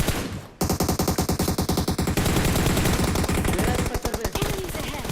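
Sustained automatic gunfire fills an intense PUBG Mobile firefight, with rapid rhythmic bursts of loud, close shots running almost continuously.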